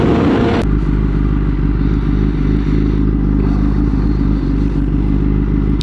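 Motorcycle engine running steadily up close while riding, a loud continuous low drone with a brief rougher burst at the start and faint clatter over the engine.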